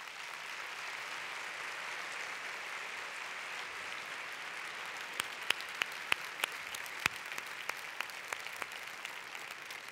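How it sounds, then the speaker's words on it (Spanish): An audience at a congress talk on transmedia storytelling applauds in a dense, steady wash of clapping that runs the whole time, with a few sharper individual claps popping out near the end; no one speaks. "Un aplauso para todos vosotros."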